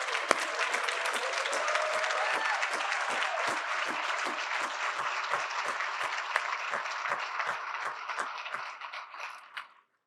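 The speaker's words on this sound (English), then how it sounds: "Can you guys stand and we give you a round of applause as well?" An audience at a live-streamed event applauds a group of volunteers standing to be recognized, a dense sustained round of clapping that fades out at the end.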